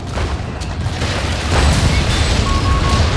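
Artillery barrage in a World War II strategy game on the Mignano map, a loud, continuous roar of booming explosions and rumbling blasts throughout, with no talk.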